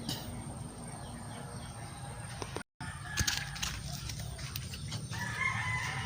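Chickens cluck and murmur nearby with a rooster crowing, steady background noise throughout and a brief dropout partway.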